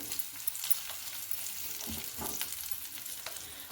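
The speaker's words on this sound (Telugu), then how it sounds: "ఇప్పుడు వెల్లుల్లిపాయలు వేస్తున్నాను." Crushed, unpeeled garlic cloves sizzle in hot oil in a pan while a Telugu gongura and green chili chutney is being made, giving a steady crackling fry noise with brief bursts as the pieces are stirred.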